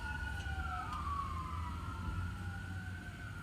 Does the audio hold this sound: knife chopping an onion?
no